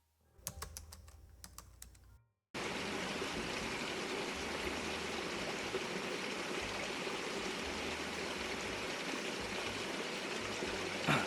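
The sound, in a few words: trout stream water flowing from a spring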